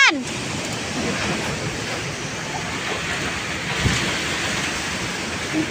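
Rushing river current churning steadily, a loud broadband roar of fast-moving water close by, with a brief voice at the start.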